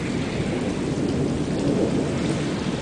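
Constant rolling thunder fills a Phoenix thunderstorm with rain, a steady, loud, dense rumble and hiss continuing without a break and no voices.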